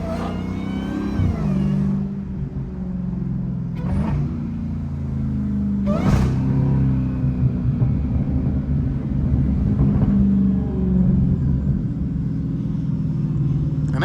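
A Dodge Hellcat driving through a neighborhood at sunset, its engine rumbling steadily and close throughout, rising in a few brief revving surges.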